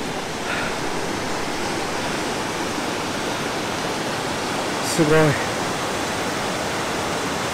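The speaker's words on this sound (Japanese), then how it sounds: "停戦の滝か、" Steady broadband rush of a waterfall at Nishizawa Gorge along a hiking trail, close and continuous, with a brief spoken exclamation partway through.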